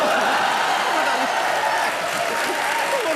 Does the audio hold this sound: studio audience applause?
yes